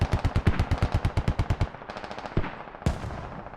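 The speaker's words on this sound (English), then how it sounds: "Mortars landing down" In the video game Squad, a fast rattling burst of automatic fire is followed by a couple of sharp, heavy impacts as mortar shells land, all fairly loud with no voices.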